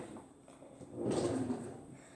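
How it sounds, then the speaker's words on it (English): A kitchen drawer slides open with a soft scraping rumble as a big spoon is fetched, a single close, moderately loud movement lasting about a second with no talking. "you're going to need a nice big spoon from your drawer"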